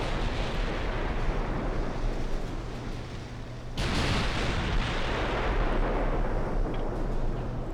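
Four-inch guns on a torpedo destroyer fire in a naval battle game, a dense continuous roar of overlapping blasts that cuts out briefly midway and then resumes at full loudness.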